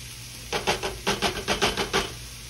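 Onions frying in a skillet, a soft steady sizzle punctuated by a quick run of rhythmic scraping strokes as they are stirred and spread out, close and fairly quiet, with no talking.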